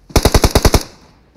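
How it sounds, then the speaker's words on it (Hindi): A rapid burst of about seven automatic gunshots in the mobile battle royale game PUBG Mobile, loud and close, then a short fading tail. "ये तो गोली मार रहा है"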